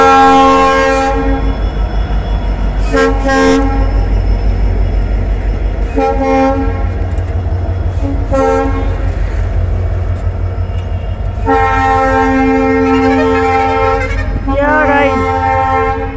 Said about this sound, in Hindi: इसका लोको है डीजल, गजब का मोस्ट पावरफुल डीजल लोको गाइस।